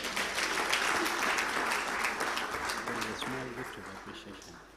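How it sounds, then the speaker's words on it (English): A conference audience of employers applauds, dense clapping sustained throughout and slowly fading, with a voice briefly audible near the end. "Another round of applause for you."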